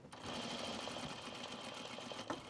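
A sewing machine stitching the elastic waistband of pajama bottoms, a quiet steady motor whir with rapid needle clatter running continuously throughout.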